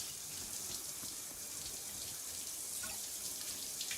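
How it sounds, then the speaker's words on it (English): A shower running in a video game, heard as a steady, hissing spray of water that fills the whole clip at a fairly constant level, with no talking. "She's in the shower."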